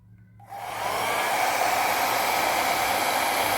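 A hair dryer switches on and blows steadily across wet fluid art paint with a gold base, a loud, even whooshing roar that starts abruptly and holds constant.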